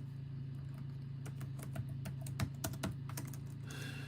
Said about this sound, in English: I'm terrible today with typing.